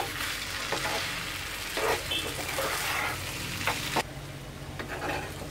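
Veg chow mein with ketchup and chili sauce is stir-fried and mixed in a pan, giving a dense, loud sizzle with bursts of scraping and tossing. The sound drops briefly near the end.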